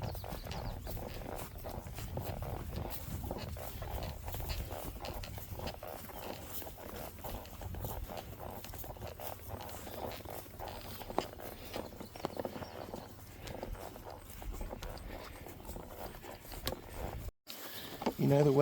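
A herd of cows walks along outdoors, producing a steady, low, shuffling clatter of hooves and movement, with a person calling to the animals at intervals.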